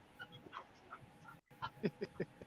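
Dog being wild indoors, giving a series of short, faint yips and whimpering barks in quick irregular bursts, with a brief silent gap midway.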